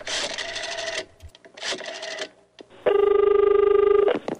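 A quarter drops into an old local pay phone: two short rattling, jangling bursts, then a steady electronic tone that holds for about a second, with no voices.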